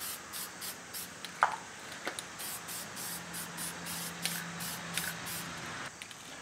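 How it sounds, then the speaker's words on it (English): Aerosol can of matte clear coat spraying onto a simple cosplay superhero mask, in a string of short, evenly spaced hissing spritzes heard close up with quiet gaps between them. "We've got our clear coat, which is matte, and we're just going to give this two quick layers."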